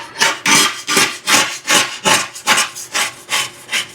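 Hard residue scraped off the lid of an unplanted aquarium, a rough rasping rub in about ten steady back-and-forth strokes, close and loud with nothing else heard.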